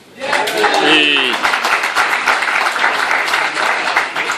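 An audience at a wrestling Q&A session in London claps after an answer, a brief round following a burst of speech, fairly close and steady.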